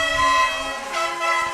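A loud, brassy air horn blast at a high school baseball game, sustained and harmonic, shifting pitch briefly midway before holding steady.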